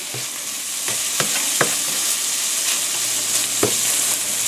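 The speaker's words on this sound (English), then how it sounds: "Just going to spread it all around, keep stirring it, cooking, cooking, cooking." Eggs and bacon fry and sizzle steadily in a cast iron pan, with a few sharp scrapes and clicks from stirring over the constant hiss, close and fairly loud.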